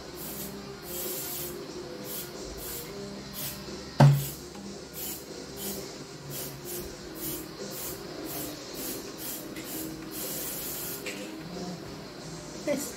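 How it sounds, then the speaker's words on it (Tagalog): A spray bottle is squeezed repeatedly while cleaning a house in the Philippines, making a series of short hissing bursts at an uneven rhythm, with a sharp knock partway through. "Spray na naman ulit."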